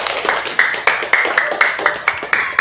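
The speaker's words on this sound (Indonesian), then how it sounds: "Ya, tepuk tangan buat kita semuanya." Classroom clapping at a primary school, a small group of pupils beating out a fast, regular rhythmic clap close by with voices mixed in.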